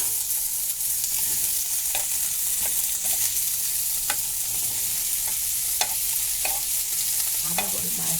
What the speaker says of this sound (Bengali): একটু হালকা নেড়ে চেড়ে আমি সবজিটা দিয়ে দেবো, একটু নাড়বো।